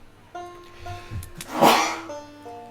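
A single sharp, loud sneeze bursts out in the middle of a quiet room, preceded by a short sniffly intake of breath.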